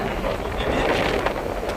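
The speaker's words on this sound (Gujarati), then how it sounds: "પવન તો બહુ છે આજે." Strong wind buffets the microphone outdoors in a steady, broadband roar that stays loud and unbroken throughout, with no clear voices.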